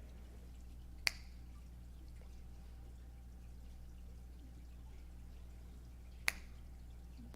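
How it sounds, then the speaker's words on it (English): Two sharp, crisp finger snaps in a quiet room during a Sunday service, spaced about five seconds apart, each a single isolated click against near silence. "I'm going to snap my fingers"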